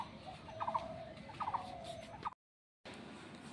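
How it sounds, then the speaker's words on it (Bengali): Outdoor birds at a home in the morning call in short repeated bursts, two clear gobbling phrases and the start of a third, moderately near but soft, before a brief silence and then faint background hiss. "ওই দেখো পাখি ডাকছে।"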